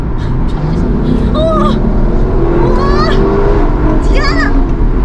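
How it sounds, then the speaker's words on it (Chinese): A Lexus LC500 with a naturally aspirated V8 roars loudly and continuously from close inside the cabin while passengers chatter and shout over it. "这种 V8 自吸的声浪就是纯粹的力量"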